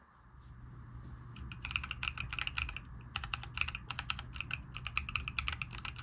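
Rapid clicky keystrokes on a Keychron Q4 Pro mechanical keyboard with blank keycaps, in uneven bursts, close and crisp, with a short pause early on and steady low background hum underneath.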